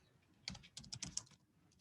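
A password is typed on a computer keyboard as a short run of soft, quick keystrokes, about half a dozen clicks close together, quiet and without speech.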